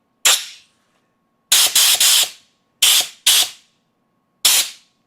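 Sunex air blowgun blasting compressed air from a compressor line, six sharp loud bursts of hissing air, some single and some in quick clusters, each fading quickly, with silence between.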